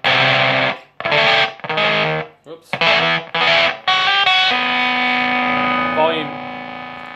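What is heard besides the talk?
guitar through boosted Deluxe 7 Min Fuzz pedal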